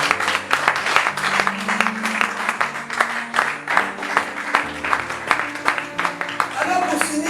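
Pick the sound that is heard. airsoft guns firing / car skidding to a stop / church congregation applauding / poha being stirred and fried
church congregation applauding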